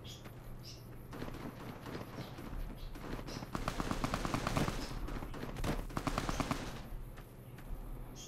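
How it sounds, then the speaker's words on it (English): Rapid bursts of gunfire in Fallout: New Vegas crackle in quick, rattling volleys, with quieter ambient noise between them. "I just keep hearing like random gunfire"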